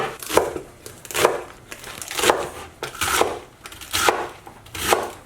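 Knife chopping salad ingredients on a cutting board, about seven sharp, evenly spaced cuts close by with no talk over them.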